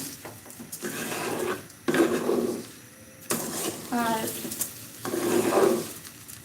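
Rice frying in a pan with cinnamon, cardamom and bay leaves for pulao, with bursts of scraping and stirring against the pan and a soft sizzle, while someone talks over it.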